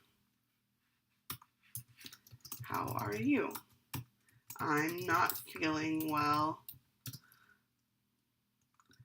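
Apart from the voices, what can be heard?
typing on computer keyboard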